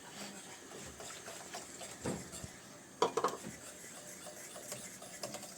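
A spoon scraping and knocking against a pot while stirring thick milk rice pudding, soft clinks with a sharper clatter midway, low background hum.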